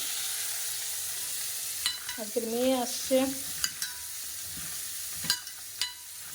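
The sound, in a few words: bitter gourd and potato frying in a pan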